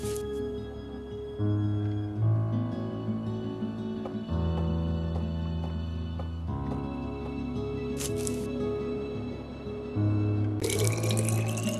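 Water running into a bottle in the game Gray Matter: a steady tap-like pour with shifting tonal layers over about twelve seconds, alone with no talk.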